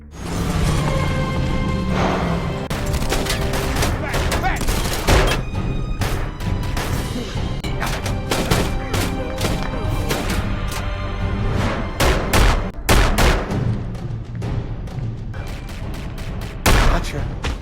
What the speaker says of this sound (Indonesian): tiba-tiba mereka menerobos dan terjadilah baku tembak terakhir yang sangat menegangkan